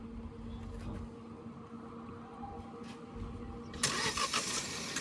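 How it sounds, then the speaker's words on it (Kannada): Kia Sonet GT Line petrol engine started by push button: a quiet interior hum, then near the end an abrupt loud roar as the engine catches and settles into a steady idle. "ಸೊ ಇದು ಬಟನ್ ಒತ್ತಿ ಸ್ಟಾರ್ಟ್ ಮಾಡ್ಬೋದು."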